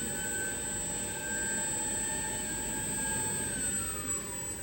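Customized READ4200 electric axle with integrated differential and gearbox running under acceleration, a steady loud whine with rising and falling tonal pitch over a broad mechanical hum, close and continuous, no talking.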